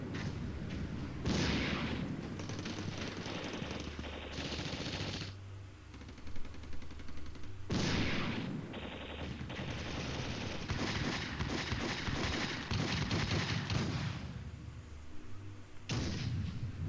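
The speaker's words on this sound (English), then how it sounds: "Another artillery strike there, and this time they got it right" Artillery fire in the Flashpoint Campaigns: Red Storm 2 war game comes as several loud, sustained blasts and rumbling barrages separated by short quieter gaps, with no talking.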